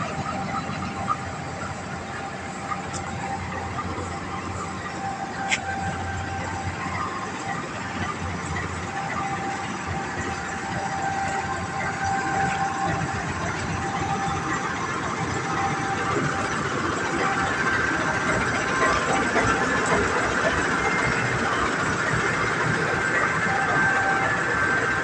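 A Philippine National Railways train sits at Alabang station, its engine idling with a continuous low rumble and mechanical hum, growing slightly louder over time with faint squeaks and clicks.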